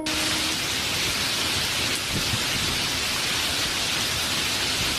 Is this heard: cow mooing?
no